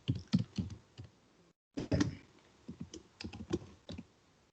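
Java code is typed on a computer keyboard in quick, close bursts of clicking keystrokes, with one short pause partway through.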